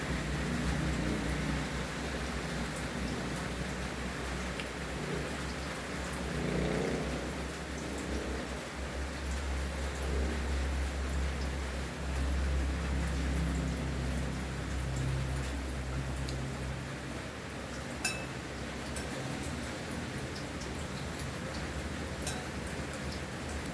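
Steady rainfall patters evenly for a long stretch, a constant soft hiss with occasional louder drips, and no voices.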